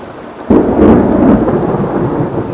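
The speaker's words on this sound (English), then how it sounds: "there was a lightning strike just right out the window" A loud thunderclap from a nearby lightning strike breaks suddenly out of steady torrential rain, then rumbles on over the continuing downpour, with no voices.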